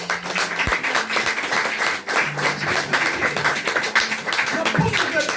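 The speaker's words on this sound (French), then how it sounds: "On peut acclamer pour Jésus." Church congregation at a Sunday service applauding and cheering loudly and continuously, a dense wash of clapping with voices shouting over it throughout.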